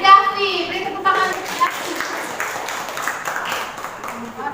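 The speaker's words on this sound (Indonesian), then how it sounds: "Beri tepuk tangan." Classroom applause for a top scorer, scattered clapping from students mixed with children's voices and chatter, starting over a teacher's speech and continuing at moderate loudness.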